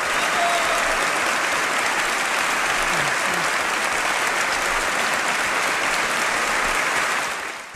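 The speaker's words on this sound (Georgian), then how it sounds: "კინემატოგრაფიის ისტორიაში ყველაზე ხანგრძლივი ტაში" A large crowd gives a long standing ovation at the 1972 Oscars in a grand hall, dense continuous clapping at an even level throughout that only begins to fade at the very end.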